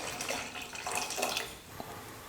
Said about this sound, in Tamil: ஒரு 150 கிராம் புளி தண்ணி சேர்த்துக்கிறேன்